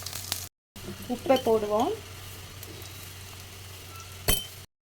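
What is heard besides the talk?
shallots and green chillies sizzling while being sautéed in pan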